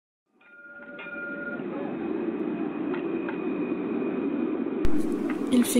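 A tram rolls along with a steady low rumble that swells in, while faint high tonal whines hang over it and a sharp clatter breaks through near the end.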